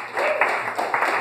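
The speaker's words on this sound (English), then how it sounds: "A round of applause for our bartender" Audience applause for Dan, a bartender introduced to the crowd at a live stage show: a brief, dense burst of many hands clapping, with a voice carrying over the noise.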